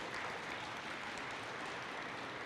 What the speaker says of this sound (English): let's give Larry a round of applause in his absence